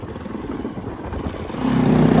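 A motorbike is ridden on a road trip through hilly northeast India, its engine buzzing and sputtering close by, then swelling louder and steadier near the end, with no talk.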